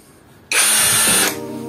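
Cheap Hitachi impact wrench running, a loud close whirring burst of under a second with rattling hammering, then winding down into a lower hum.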